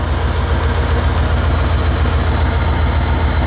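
A 2003 Dodge Ram Van 1500 engine idles steadily and loudly up close, a deep rhythmic rumble with a faint repeating exhaust tick pulsing through it.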